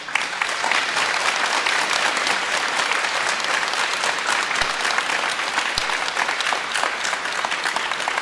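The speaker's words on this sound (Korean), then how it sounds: "박수가 끝이 없으시네요." Sustained applause from a church congregation celebrating a newly ordained Catholic priest's first Mass, a dense, loud wash of clapping that continues without a break or any voices.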